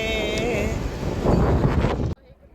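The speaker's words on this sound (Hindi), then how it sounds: "इतनी तेज़ आंधी और हवा चल रही थी।" A strong windstorm blows at Masjid Nabawi in Medina, with loud gusty wind buffeting the microphone continuously before cutting off abruptly near the end.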